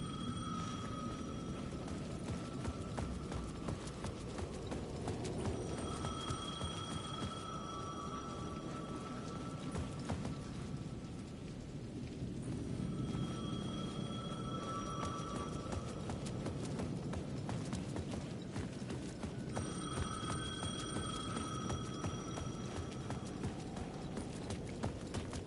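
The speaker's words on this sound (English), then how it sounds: "The payphone at the edge of the plaza was ringing again." A payphone rings at the edge of a plaza in the video game Alan Wake 2, with repeated electronic ring bursts spaced several seconds apart over a constant patter of rain.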